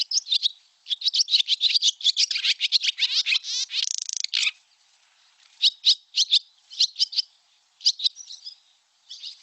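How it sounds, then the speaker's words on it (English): Barn swallows giving rapid bursts of small high chirps and chips, several birds calling at once in a dense chattering run, then sparser scattered calls, close and clear with no other sound. "So their call is just a bunch of little chirps and chips."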